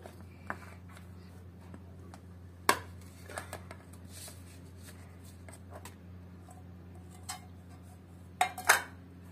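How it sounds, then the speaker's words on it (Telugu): A plate is set over a pan to turn out an oven-free wheat chocolate cake, with a few sharp clinks and knocks of crockery against metal, scattered and close, over a quiet low hum. "ఈ ప్లేట్ ని దీని మీద పెట్టి దీన్ని ప్లేట్ లో ట్రాన్స్ఫర్ చేయాలి"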